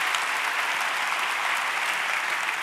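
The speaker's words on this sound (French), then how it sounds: "je crois qu'on peut vous applaudir" A conference plenary audience gives steady, dense applause at even moderate volume, many hands clapping together without pause and no voices heard.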